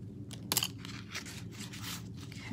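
Scissors snip through ribbon on a handmade greeting card, giving one short, crisp cut followed by faint rustling and handling of the ribbon at close range.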